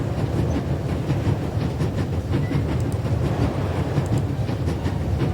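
A train rolls along rails in The Raven video game, a loud, steady rumble with rhythmic clickety-clack from the wheels, continuous and close.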